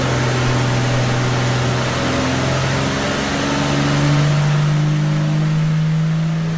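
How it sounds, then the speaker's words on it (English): A tractor-pulling engine roaring steadily on a dynamometer, a loud sustained drone that holds near constant and rises slightly toward the end. "So this is the dyno."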